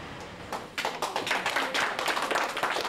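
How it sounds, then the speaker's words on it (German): Applause rises in a courtroom, the dense clapping of a crowd of supporters, steady and close throughout. "Wie immer Beifall im Gerichtssaal von den treuen Genossen und ehemaligen Mitarbeitern"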